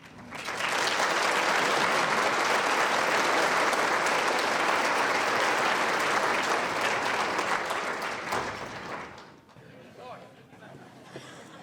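A large audience at a military appreciation fundraising dinner applauds loudly and continuously for about nine seconds before the clapping tapers off, leaving quieter room noise and a voice.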